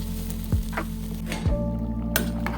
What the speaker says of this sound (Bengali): এই চাল আর ডালটা দিয়েও একটুখানি নেড়ে চেড়ে নেবো